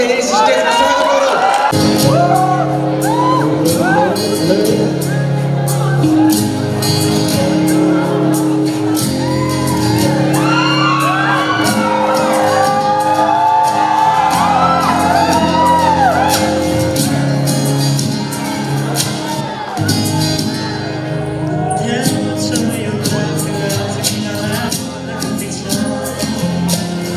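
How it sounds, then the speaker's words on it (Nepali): An audience at a college welcome and farewell stage program cheers, shouts and whoops loudly and without a break, a dense crowd roar that nearly drowns out music and voices. "उहाँलाई जोरदार तालीले यस स्टेजमा स्वागत गरौँ।"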